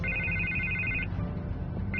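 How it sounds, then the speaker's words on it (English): Phone ringing in Batman: The Telltale Series, an electronic ringtone trill over low background hum, stopping briefly and starting again. "I can't get the phone to stop ringing."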